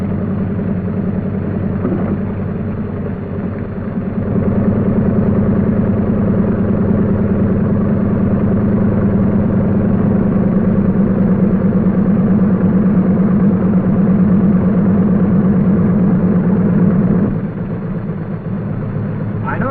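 Douglas DC-3 radial aircraft engines run with a low, steady droning rumble that swells and holds for most of the stretch before easing back near the end.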